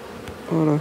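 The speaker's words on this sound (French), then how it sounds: "On voit plus le couvain tellement il y a d'abeilles" Dense honeybees crowding a small hive box in April, a faint buzzing drone that swells into a louder sustained hum near the end of the short moment.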